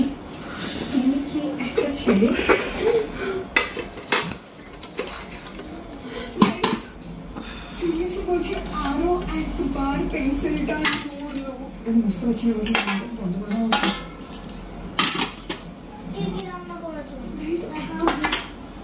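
Steel dishes, pots and cutlery clink and scrape repeatedly as rice is served at home, in close irregular bursts, with someone talking over much of it.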